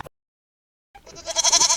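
A goat bleats once after a brief silence, a loud, wavering, nasal cry that swells and holds until the end.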